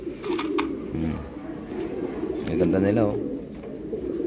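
Banded racing pigeons on a rooftop give soft, repeated throaty coos nearby while someone talks over them.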